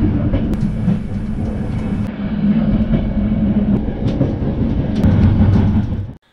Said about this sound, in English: As the train is slowly leaving Marseille